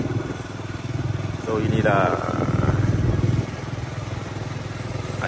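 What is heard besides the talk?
motorcycle engine running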